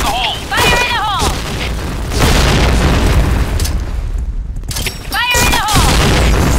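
Grenade blasts in the shooter game Point Blank: loud, sustained booming and crackling rumble fills most of the stretch, with a brief lull before another heavy burst, while an in-game voice calls out over the start and end.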